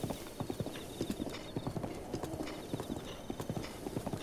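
In the video game Zelda: Breath of the Wild, a ridden horse trots with a steady, even rhythm of clear hoof clops, close and moderately loud, continuing without pause, with a faint whinny in the mix.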